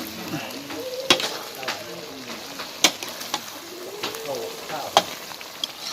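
Rice sizzles as it is stir-fried with shrimp paste in a hot wok while a spatula scrapes and knocks against the pan every second or two, close by.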